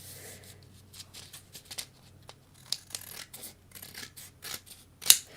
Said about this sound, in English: so we'll have to do a little bit of trimming.